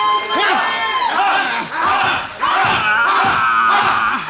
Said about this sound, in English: crowd trying to fuel Tremont back into this match